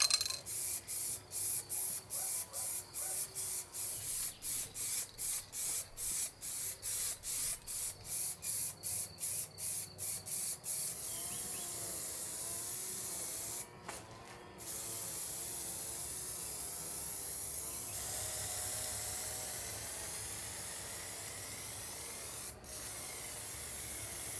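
Spray gun laying a final color coat of paint onto metal, heard up close as a loud, steady hiss broken into rapid regular bursts at first, then a longer continuous spray with a few short pauses.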